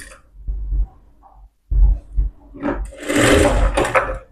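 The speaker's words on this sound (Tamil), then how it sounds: "இப்படி மடித்து நம்ம ஓரத்தில் ஒரு தையல் போட்டுங்க" A sewing machine stitches a folded blouse hem in short close bursts, first soft thumping runs, then a louder steady whirring stretch near the end.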